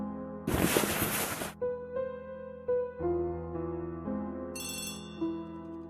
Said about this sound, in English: And there goes phone.